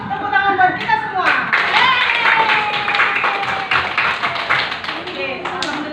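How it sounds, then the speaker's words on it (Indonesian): A group of students claps hands together in a classroom lesson, brisk and fairly close, the claps merging with cheerful voices and a rising tone over the top. "Sekali lagi buat tepuk tangan buat kita semua"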